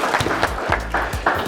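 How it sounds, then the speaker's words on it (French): An audience at a startup talk claps in loose, steady applause, moderately loud and continuous through the short burst. "On va applaudir Tim."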